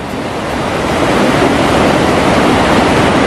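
Loud, continuous rushing water of a waterfall roars close by, a steady broadband wash with no pauses.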